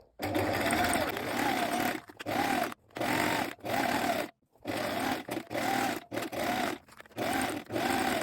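A sewing machine stitches the side seams of a dress ruffle 1 cm from the edge, running in repeated loud bursts of rapid mechanical chatter broken by short pauses.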